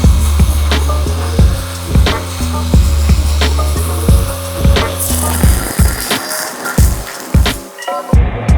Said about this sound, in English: I'm gonna sand the outsides and then brush them and then repolish them